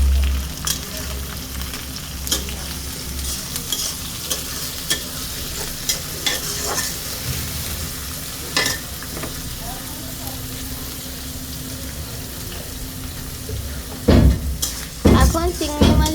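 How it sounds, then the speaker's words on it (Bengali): Shrimp fry with bottle gourd greens in a pan, sizzling steadily under repeated stirring and scraping. Occasional louder clanks of the utensil against the pan come near the end. "এখন চিংড়ি মাছগুলো এর সাথে ভালোভাবে ভেজে নেব।"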